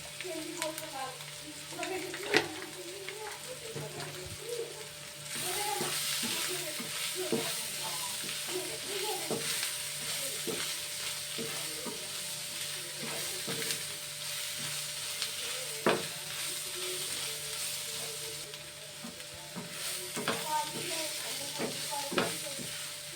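Chili powder stirred into a sizzling pan of cooking, with a continuous bright crackle of frying and repeated scrapes and taps of a spoon against the pan throughout.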